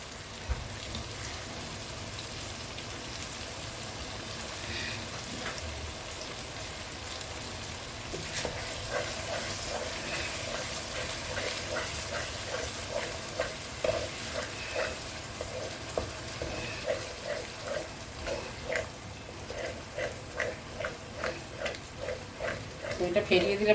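Chicken curry frying in a pan while yogurt goes in and the mixture is stirred, a continuous close sizzle with wet bubbling and regular scraping strokes that grow more rhythmic toward the end, with occasional faint talking.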